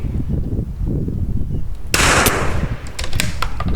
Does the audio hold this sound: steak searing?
no